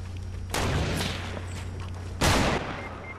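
Two sharp, loud sniper rifle shots ring out in Fortnite Battle Royale, each a sudden crack with a short rumbling tail, about a second and a half apart, with no talking.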